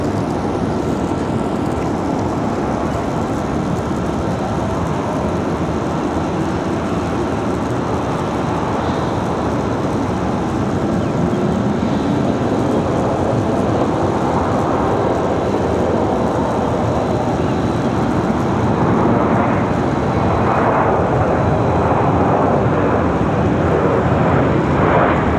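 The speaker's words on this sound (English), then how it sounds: "A321 for American Airlines. Off to Phoenix." An American Airlines Airbus A321 jet departs Raleigh Durham airport. A loud, continuous broadband engine roar builds slowly and swells toward the end, with no voices.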